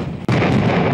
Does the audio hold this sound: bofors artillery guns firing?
yes